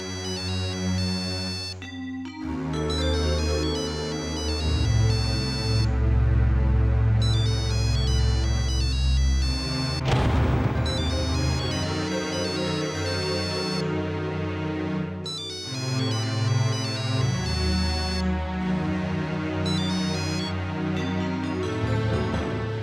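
A loud, melodic phone ringtone plays continuously, its electronic tune repeating in phrases with a steady bass beat underneath.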